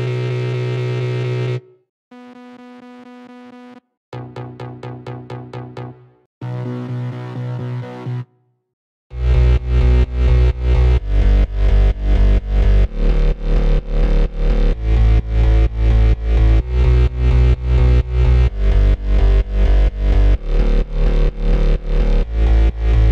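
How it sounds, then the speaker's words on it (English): Distorted synth bass from a GMS plugin preset in FL Studio for a progressive house drop, first as a few separate sustained tones with short gaps, then a loud, dense, pulsing bass line with heavy low end. "One by one, the bass sounds like this."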